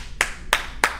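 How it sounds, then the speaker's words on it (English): Three sharp, evenly spaced hand claps ring out close and loud, with no talking. "And then everybody claps."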